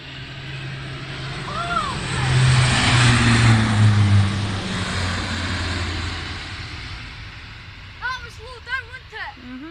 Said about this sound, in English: Crazy low-flying Saudi C-130 buzzes right over a soldier on the ground in Yemen.